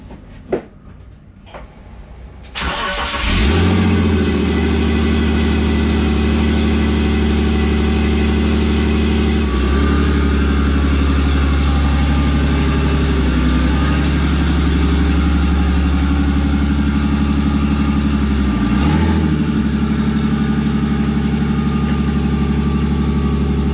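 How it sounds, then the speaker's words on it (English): A BMW six-cylinder engine mounted in a kart cranks and catches after a few seconds of quiet clicks, then settles into a loud, steady, close idle with slight dips in the running note. "We'll fire it up now, see how it sounds, and take it from there."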